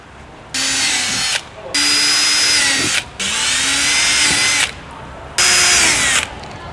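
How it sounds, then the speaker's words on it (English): An 8mm bit drilling pilot holes into a rear diffuser for a Hyundai i30 Sedan N, four loud, close bursts of whining drill separated by short pauses. "take your 8mm drill bit and punch in some pilot holes"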